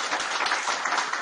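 Applause in a church during a Mass for the Assumption of the Blessed Virgin Mary: a short, steady burst of many hands clapping together, fairly close and even, with no voices over it.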